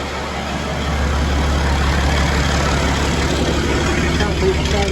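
A Massey Ferguson 1250 tractor engine that has been running a while chugs steadily with a deep, even low rumble close by, continuous throughout.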